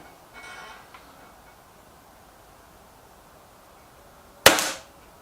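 A single sharp shot from a BSA TS Ultra air rifle fired at a target, one loud crisp crack after near silence with a brief faint rustle earlier.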